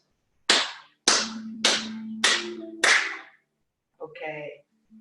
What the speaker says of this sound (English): Let's do 5 claps.